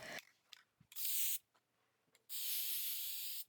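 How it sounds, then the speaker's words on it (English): Aerosol can of satin spray sealer misting over a watercolor craft piece, two loud sustained hissing bursts with a short quiet gap and faint clicks between, close and alone. "so I sprayed it with a satin sealer first"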